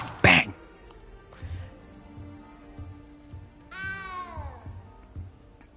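A cat meows in Hogwarts Legacy, one loud close cry at the start, then softer meows and a falling mewl later on, with a person talking quietly underneath.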